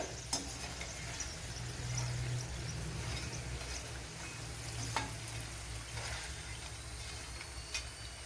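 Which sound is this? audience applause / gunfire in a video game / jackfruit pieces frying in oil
jackfruit pieces frying in oil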